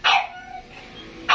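Brutus, a dog, lets out two sharp barks, one at the start and one at the end, with a softer whine or yelp trailing between them, loud and close.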